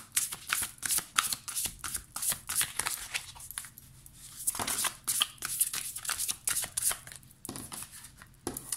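Tarot cards from a Beautiful Creature deck shuffled by hand, loud and close: a dense run of papery riffles and slaps with brief pauses, no talking over it.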